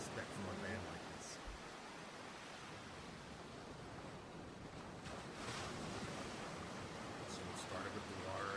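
Water in a metal music video washes in as a broad, steady surf-like roar, with wind-like rushes and soft splashy swells over about eight seconds. No clear voices rise above it.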